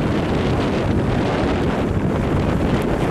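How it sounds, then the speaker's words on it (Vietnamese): Strong wind at sea buffets the microphone aboard an overloaded barge on open water, a loud, continuous roar with no break and no talk. "Quá gió các bạn ơi, thì bây giờ là cái cấp độ gió đó đã tăng lên hả"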